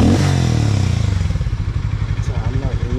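A Harley-Davidson 440cc motorcycle with a large engine and radiator revs loudly up close, then drops into a rapid, throbbing idle.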